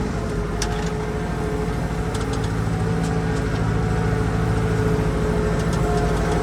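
A TD 95 tractor engine revs hard while its wheel slips in mud at a canal edge, a loud continuous low droning rumble with steady throttle and a few faint clicks and knocks on top.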